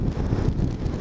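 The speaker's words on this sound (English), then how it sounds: "it's slightly windy out today" Steady low rumbling wind buffeting a microphone, constant and fairly loud with no voices.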